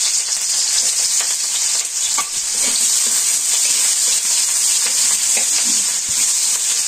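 Onion and green chilies frying steadily in a pan in a Bangladeshi village kitchen, a loud, continuous hiss and crackle with occasional stirring clinks, no talking.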